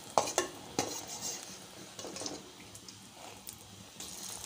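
Bread besan toast, flipped to fry the other side, sizzles quietly in a pan as a spatula clinks and scrapes the metal several times early on, then the frying settles into a soft, steady hiss.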